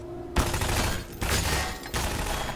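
Grenade blasts in the video game Half-Life 2: loud, close, broadband roaring bursts in three successive waves, each sharp onset followed by a sustained rumbling wash.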